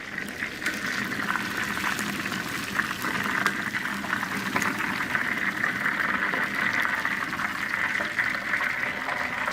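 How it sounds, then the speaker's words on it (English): Malaysian fried chicken sizzles in hot oil, a steady, dense crackling hiss that holds evenly and alone throughout, with no voices over it. "We only fry chicken one time. We don't double fry."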